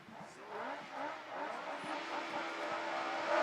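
Class 4 autograss race cars start a race together on a grass track, a blended engine roar at moderate distance that swells steadily as the pack accelerates away.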